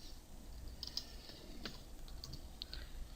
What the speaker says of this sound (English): I'm going to type in actuator pin.